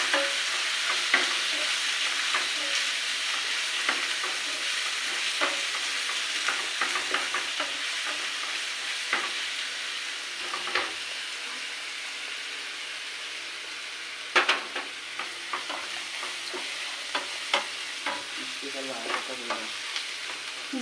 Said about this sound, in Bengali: পেঁয়াজটা একটু লাল লাল করে ভাজি করে নিতে হবে